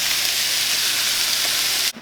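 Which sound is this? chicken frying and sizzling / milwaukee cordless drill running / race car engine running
chicken frying and sizzling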